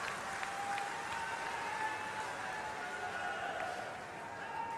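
An audience at a public gathering clapping, a steady distant wash of many hands that holds at an even level, with no clear voices.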